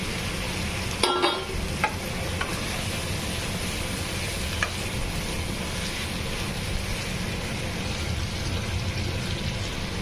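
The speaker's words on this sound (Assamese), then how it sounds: "বেঙেনাৰ লগত মছলাখিনি ধুনীয়াকৈ ভাজি ল'ম" Eggplant and potato frying in spiced oil for a papad curry: a continuous sizzle with a few sharp clacks of a spoon against the pan early on, then steady crackling.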